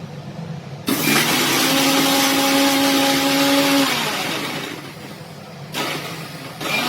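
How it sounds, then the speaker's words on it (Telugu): A kitchen mixer grinder blends beetroot, green chillies, cumin and soaked tamarind. It starts abruptly with a loud whirring roar and a rising motor whine, runs for about four seconds, drops off, then gives a second short burst. "దీన్ని కూడా మిక్సీకి వేసింది."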